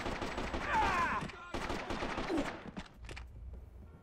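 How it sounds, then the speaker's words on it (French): Short bursts of automatic gunfire in the video game Freedom Fighters, rapid crackling volleys that fade out toward the end, with someone talking over them. "on essaie de tirer par rafale parce que en automatique..."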